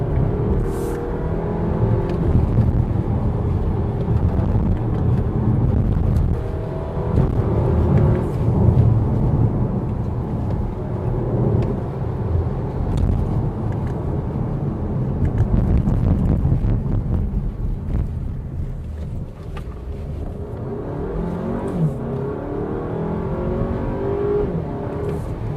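An Audi Q3 Sportback Quattro, a 2021 model, climbs a wet hill road, its engine a steady, continuous drone with tire and road noise running throughout and slight swells as it downshifts from third to second for a corner.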